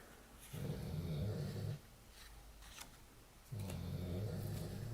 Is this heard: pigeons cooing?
no